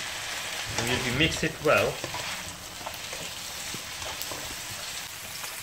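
Onions frying in a pan alongside cooking beans give off a steady, close hiss of sizzling oil, with stirring scrapes early on and a brief spoken remark.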